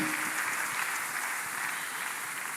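A church congregation claps together during a prayer service, a steady wash of applause at moderate distance that holds evenly throughout.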